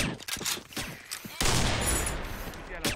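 Gunfire in the Combat Arms shooter game: a few sharp separate shots, then a dense sustained burst of rapid automatic fire that fills the rest of the clip, loud and close.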